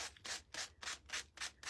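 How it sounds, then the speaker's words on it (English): A napkin-covered craft piece is sanded by hand in quick, even back-and-forth strokes, about six rasping passes, close and alone. "I always dry it first before I start doing the sanding"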